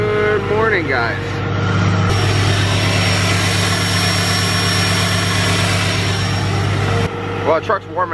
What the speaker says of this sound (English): the truck's warming up here, about to go to work